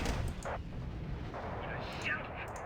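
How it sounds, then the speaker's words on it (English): Rockets firing in Wargame: Red Dragon, a muffled rumbling barrage with distant booming bursts, moderately faint, with a voice speaking over it. "I heard rockets firing"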